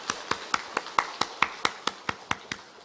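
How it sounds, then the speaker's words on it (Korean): A church congregation at a Wednesday mothers' prayer meeting claps in unison: about a dozen sharp, evenly spaced claps in a steady beat, fairly quiet and heard alone. "우리 한번 크게 박수하겠습니다."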